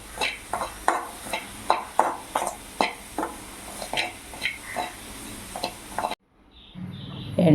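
A spoon stirs and scrapes coriander and chili powder frying in a clay pot, with steady rhythmic scraping strokes over a low sizzle, close and moderately loud, before the sound drops out and a brief louder clatter follows.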